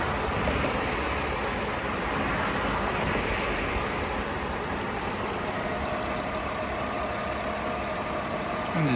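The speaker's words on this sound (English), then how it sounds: "Engine sounds smooth and healthy." A Mercedes-Benz CLK320 with a 3.2 V6 idles steadily under an open bonnet, a dense, constant engine hum at close range with no change in pitch or level throughout.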